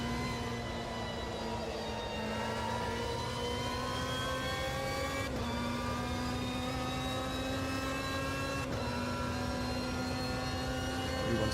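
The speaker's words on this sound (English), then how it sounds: "you hear a lot of the transmission whine" Race car engine and transmission whine in the Automobilista 2 racing game: a loud, steady, high harmonic whine that climbs in pitch as the car accelerates, with two abrupt gear-shift drops, and no talking.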